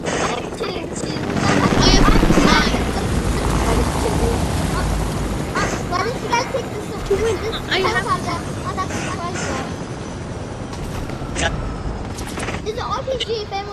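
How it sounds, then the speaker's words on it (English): Helicopter in Fortnite, a loud rumbling rotor drone that swells early and continues steadily under frequent gunfire bursts and people talking over it. "I'll take the helicopter"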